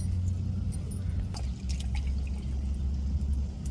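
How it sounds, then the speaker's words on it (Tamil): Dried rock fish curry bubbles as it boils in a pot. A low, steady rumble of boiling runs underneath, with scattered small pops and drips from bursting bubbles close by. "குழம்பு எப்படி கொதிச்சு முறக்குடி வருதுன்னு பாருங்க"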